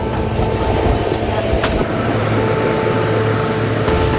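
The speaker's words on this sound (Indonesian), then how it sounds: "Evakuasi menggunakan helikopter Dauphin milik Basarnas dan dilakukan bagi korban yang membutuhkan penanganan medis darurat." A Basarnas Dauphin helicopter works an evacuation after an earthquake, sending out a steady, droning engine and rotor hum at middle distance. A voice speaks over the machine noise.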